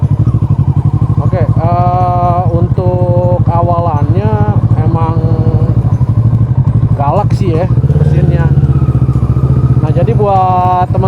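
A 2012 Kawasaki ER6N 650cc motorcycle engine runs and revs with a steady, loud, close rumble, while someone talks over it throughout.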